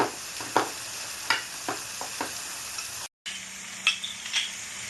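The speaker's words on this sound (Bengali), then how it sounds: "আমি আলু আর মটরশুঁটিটা ভালো করে ম্যাশ করে নেব এটা আমি হাতা দিয়ে দিয়ে ম্যাশ করে নেব" Potatoes and peas being mashed with a ladle in a hot pan for Bengali-style pav bhaji; repeated scraping and pressing strokes over a low sizzle, close and moderately loud, with a brief gap midway and no talking.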